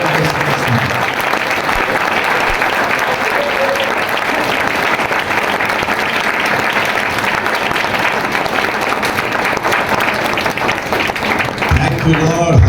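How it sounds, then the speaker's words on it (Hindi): A church congregation at a prayer house gathering claps for Jesus in a loud, sustained, dense burst of applause that keeps going evenly for several seconds. "ऊपर ताली बजाएंगे यीशु जी के लिए"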